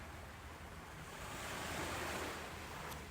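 Ocean waves washing in a soft, continuous surf wash with a gentle swell in the middle, mixed with light wind, distant and fairly quiet.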